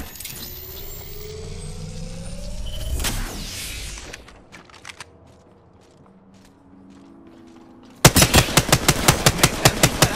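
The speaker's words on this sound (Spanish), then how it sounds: "Me están disparando." Rapid automatic gunfire bursts out loudly in the video game Apex Legends, coming as a fast, even rattle of shots after a stretch of engine rumble, metallic handling clicks and quieter movement noises.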